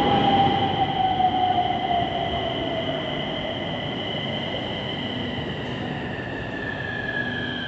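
A three-car Nagpur Metro train pulls into a station with a loud, steady rumble and a high wheel squeal that slowly drops in pitch as it slows, heard up close with no talking.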